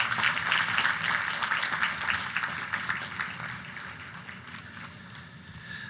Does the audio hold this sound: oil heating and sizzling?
no